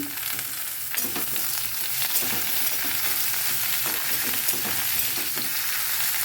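Ridge gourd and tomato fry in a pan with potatoes, giving a steady, loud sizzle throughout with occasional stirring scrapes and crackles, close up and without speech.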